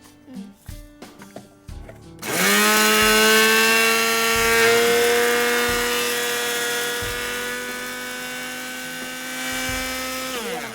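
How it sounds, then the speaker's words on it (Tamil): A mixer grinder dry-grinds cumin and dried chilli, starting abruptly after a few light knocks and then holding a loud, steady high-pitched motor whine with a slight wavering pitch throughout. "ஜீரகமும் சில்லியும் நம்ம இதை முதல்ல போட்டு ட்ரையாக கிரைண்ட் பண்ணிக்கலாம்"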